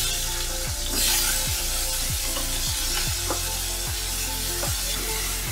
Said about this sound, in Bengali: অল্প একটু টমেটোটাকে নেড়ে নিচ্ছি কড়াইয়ে।